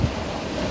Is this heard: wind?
yes